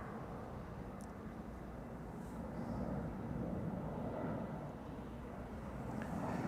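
Turkish Airlines jet departing Amsterdam Schiphol Airport bound for Istanbul, a faint, distant broadband engine roar that swells gently and holds steady.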